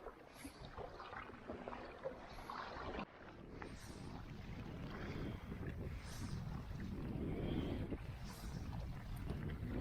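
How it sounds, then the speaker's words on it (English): Kayak on a lake pushing into a wave, with a steady rush of water and wind buffeting the microphone throughout, growing slightly louder toward the end, no talking. "I'm going to go into the wave now, because it's trying to pull me into the water"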